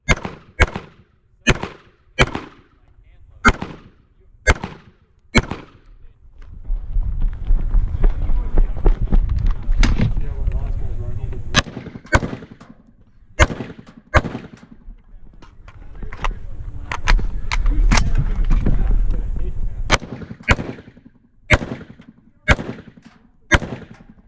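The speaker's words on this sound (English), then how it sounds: "This stage required you to Mozambique the targets with 2 hits anywhere in the body and 1 in the head." Gunshots on a shooting competition stage at Smoking Guns 2020, firing a Mozambique drill at targets: sharp, loud cracks in quick pairs and clusters. Two long stretches of steady rumbling noise sit between the groups of shots.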